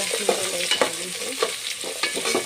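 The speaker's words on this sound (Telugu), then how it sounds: "టమాటా బఠానీ ఒక వేద్దాం. అవి వేగుతున్నాయి కదా ఫ్రెండ్స్" Tomatoes and peas frying in a pan, a continuous sizzle broken by repeated scraping stir strokes at an uneven rhythm, close and fairly loud.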